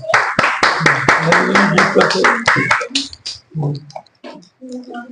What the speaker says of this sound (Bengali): সবাই একটা করতালি